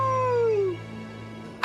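A cartoon wolf lets out a single long, falling howl that fades away, followed by a brief sharp noise at the very end.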